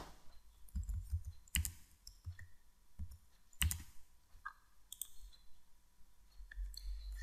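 Crisp computer mouse clicks and keyboard keystrokes, quiet and close, come in short clusters with pauses between them, some single clicks and some quick runs of taps.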